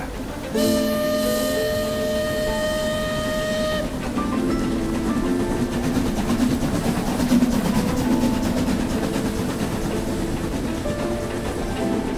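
A train rolls along steadily with a continuous rumbling clatter, while a sustained multi-tone whistle sounds early on before fading into the running noise.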